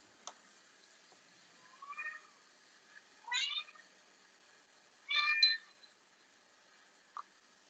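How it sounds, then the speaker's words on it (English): A pet cat named Gertrude meowing indoors, four separate meows of varying length spaced a second or two apart, near and fairly clear against a quiet background. "Dr. Werniak, your cat is very vocal."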